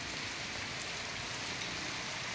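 Rain falls on a farm, an even, steady hiss of drops on the surroundings that holds at the same level throughout with nobody speaking.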